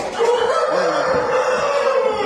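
A rooster crows loudly and close by, one long sustained call stretching across the whole stretch with no talk over it.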